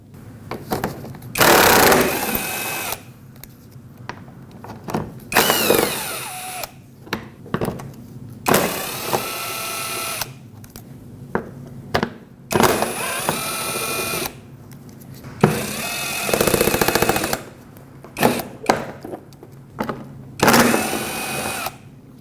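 A power tool whirs in repeated bursts of a few seconds each, separated by short pauses, as it removes the 10mm-headed bolts holding a plastic panel under the front bumper of a 2005–2021 Nissan Frontier.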